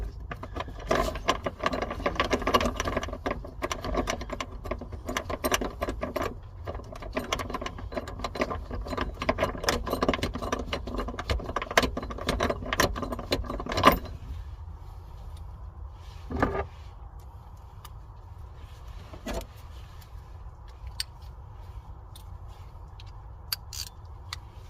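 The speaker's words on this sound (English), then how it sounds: "Make sure the clip is in there so you can thread the bolt through it." Metallic clicks and rattles from fitting the battery hold-down strap, clip and bolt in a 2009 Chevy Cobalt, busy and close for the first half, then sparser taps against a quieter background.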